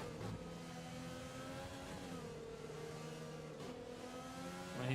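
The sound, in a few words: Alfa Romeo race car engine in F1 2020 video game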